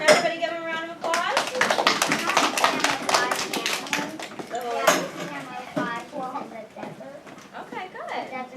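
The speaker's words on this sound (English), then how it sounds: "Can everybody give them a round of applause?" Schoolchildren clap together in a classroom during a science lesson, a burst of scattered, uneven hand claps from the group. Children's voices and chatter run through and under the clapping.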